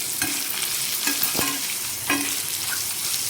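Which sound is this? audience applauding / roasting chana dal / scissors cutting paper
roasting chana dal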